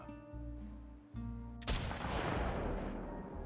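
Sniper rifle fire in a first-person shooter game: a hum of sustained tones, then one sharp loud report followed by a long rumbling tail of echo and debris.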